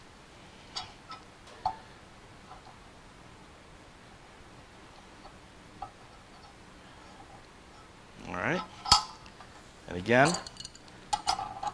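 A wrench tightens a valve onto a nitrogen hose kit, giving a few close, brief metallic clicks and scraping clinks near the end. A voice speaks briefly.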